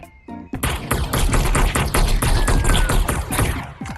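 Rapid automatic AK rifle fire in the video game Animal Rivals, a dense rattling burst that starts after a brief pause and keeps going loud and close without a break.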